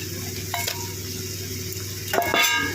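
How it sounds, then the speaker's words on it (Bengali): Snakehead fish and pea greens are stirred in a hot pan, giving a continuous sizzle of frying with a few scraping stirs over it. "মাছটা দিয়ে ভালো করে নাড়িয়ে দিয়ে দেবো"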